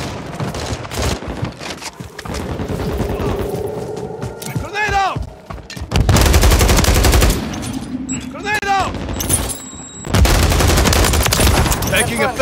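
Rapid automatic gunfire bursts in a Call of Duty multiplayer match, loud and close, with short pauses between volleys and in-game voice callouts heard over the shooting.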